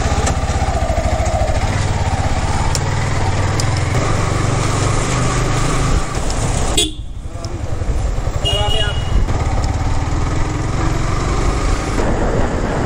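Motorcycle engine running during a ride with a helmet-mounted action camera, a steady engine drone mixed with wind rush, and a voice speaks over it.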